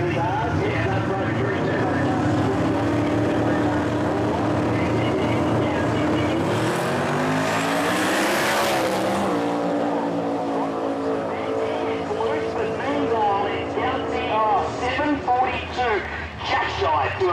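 Twin-turbo V8 Ford Cortina at Willowbank Raceway on a drag run of about 192 mph, its loud sustained engine roar rising to a peak around the middle of the pass, then carrying on under crowd and commentary noise.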